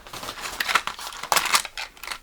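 Scissors snip through tape on a Nendoroid toy package from AmiAmi, a series of close, crisp cuts and crinkles in uneven bursts with short pauses between them.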